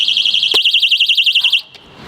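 A catalytic converter anti-theft alarm on a Toyota Tundra sounds close and loud as a rapid warbling electronic siren, then cuts off abruptly after about a second and a half.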